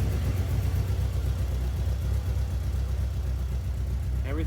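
Steady low rumble of a Mitsubishi Eclipse GSX Spyder engine idling nearby, continuous and even, with a faint higher sound creeping in at the very end.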